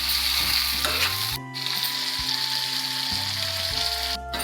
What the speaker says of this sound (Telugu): కొంచెం సాల్ట్, కొంచెం మిర్చి పౌడర్, కొంచెం పసుపు వేసేసి ఇవి ఫ్రై చేయాలి